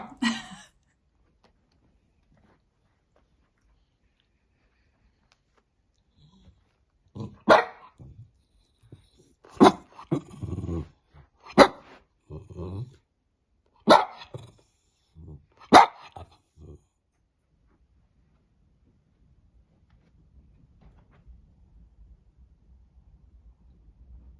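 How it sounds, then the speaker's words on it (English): A dog barks in short, sharp bursts, about half a dozen spaced a couple of seconds apart, fairly close, with quiet stretches before and after. "you can hear Benji barking"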